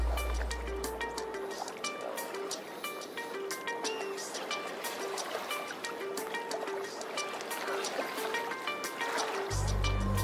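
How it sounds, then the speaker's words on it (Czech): Boat wake waves lap and slosh against the bank of the Vltava river below Prague Castle, a busy continuous churning of water with scattered splashes and drips, heard close and fairly loud without talk. "Podívej ty vlny, ta loď udělala."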